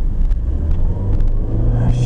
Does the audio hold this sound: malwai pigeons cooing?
no